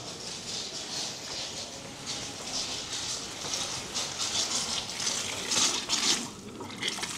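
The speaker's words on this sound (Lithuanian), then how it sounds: "Atėjom prie vieno iš mineralinių vandenų šaltinio ir einu paragauti." Hot mineral spring water in Karlovy Vary flows in a continuous, fairly soft stream with a gentle splashing texture.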